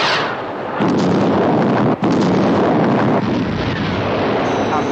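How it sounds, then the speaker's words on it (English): A missile explosion from a science-fiction TV series roars loud and sustained, a dense broadband rumble with a brief dropout midway before the blast keeps thundering. "Visual contact with explosion."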